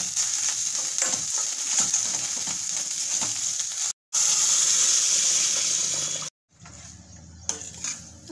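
Cooked dal is tipped into a hot tempering of asafoetida and turmeric and stirred, with a continuous loud sizzle and hiss, close by, broken by two brief cuts near the end.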